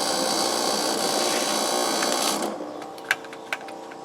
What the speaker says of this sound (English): So there's the pump.